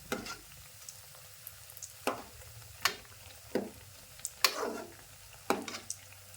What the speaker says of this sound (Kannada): ಎಣ್ಣೆಗೆ ಹಾಕೊಂತ ಹೋಗ್ತೀನಿ ರೀ ಒಂದು ಕಡಾಯಿ ಒಳಗೆ ಎಷ್ಟು ಹಿಡಿತು ನೋಡ್ರಿ ಅಷ್ಟು ಹಾಕೊಂಡ್ರೆ ನಡೀತದೆ